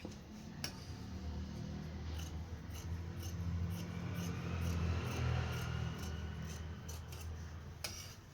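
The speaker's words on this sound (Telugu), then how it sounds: "ఇప్పుడు కటింగ్ చేద్దాం." Scissors cutting blouse lining fabric on a table, a repeated series of soft snips and rasping blade strokes in a steady rhythm, close and clear with no talking.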